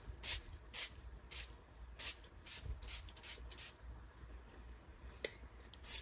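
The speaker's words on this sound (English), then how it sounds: "Let's spray first. So this is the Osea Sea Infused Mist." Osea Sea Infused face mist is pumped from a spray bottle in short, faint hissing bursts, about eight of them in irregular succession, with quiet handling sounds between.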